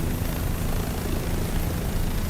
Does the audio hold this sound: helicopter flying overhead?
yes